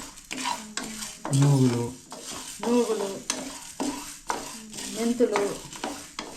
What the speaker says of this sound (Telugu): ఇవన్నీ 2 స్పూన్లు వేసి బాగా వేయించుకోవాలి